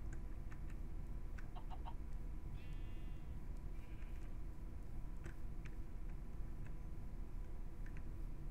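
Chickens clucking in the video game Mylo's Odyssey, short scattered clucks and squawks over a steady, busy game soundtrack, with no one talking.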